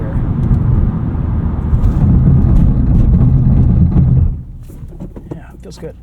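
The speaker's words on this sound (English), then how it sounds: "Let's do a quick 60 to 0 brake test here." A 2025 Subaru WRX tS brakes from 60 mph to a stop. Loud engine and road roar fills the cabin, then drops away sharply into a quiet stillness.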